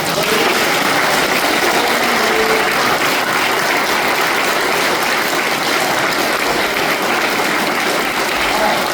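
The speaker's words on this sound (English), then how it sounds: "I think we have to give them another round of applause." Sustained applause from a school assembly audience at a Year 3 harvest festival, a dense steady wash of clapping that stays loud and even for the whole stretch.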